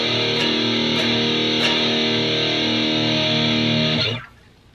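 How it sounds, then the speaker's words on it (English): An electric guitar plays through an Azor heavy metal distortion pedal, all knobs at noon, into a tube amp with four EL34 tubes; a loud, saturated sustained chord rings with a few picked strums, then cuts off abruptly. "And here's the distortion pedal with everything turned to"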